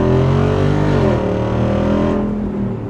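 A Jeep Wrangler 392 Final Edition's V8 revs loud and close, holding a deep throaty note before sagging and fading slightly, with no talking over it.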